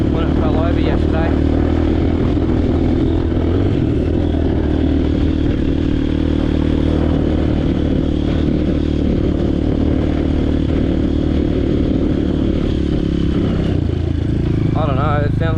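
Motorcycle engine running roughly and choking out, a loud continuous close rumble with uneven sputtering and clatter, steady throughout with a dip near the end.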